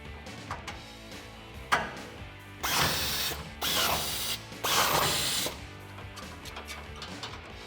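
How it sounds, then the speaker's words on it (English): A 21mm socket ratchet tightens nuts onto factory studs while a tubular off-road rear bumper goes onto a 2015-2019 Ford F150. Bursts of rapid, close ratcheting clicks come in several strokes, separated by quieter pauses, with no one talking. "Grab a 21mm socket and tighten these down."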